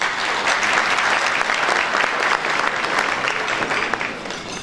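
Sustained audience applause at a sock manufacturers' association iftar dinner after an opening speech, a dense, steady clatter of many hands lasting throughout without speech.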